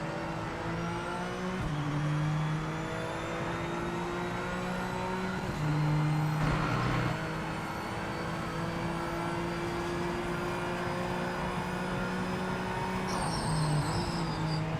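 Tyres squealing steadily beneath a racing game car's engine, a continuous tonal squeal that shifts pitch as the engine note rises and falls, loud and close with no talk.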